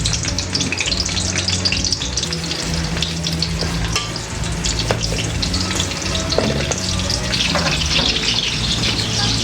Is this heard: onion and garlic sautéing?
yes